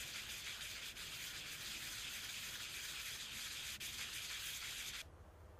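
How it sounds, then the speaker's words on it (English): Medium sandpaper rubbed steadily across the face of an end spacer washer from an air seeder, a continuous close, even scratchy hiss that stops abruptly near the end, with no speech. "sand the face of the end spacer washer down using medium sandpaper"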